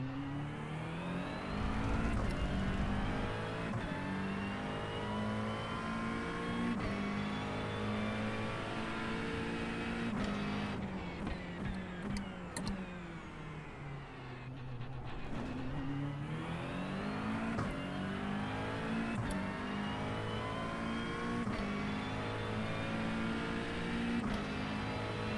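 Race car engine in a sim racing game for endurance practice, running laps: a continuous high-revving whine that climbs through gears, dips under braking around mid-lap, then rises again, steady and prominent with no talk.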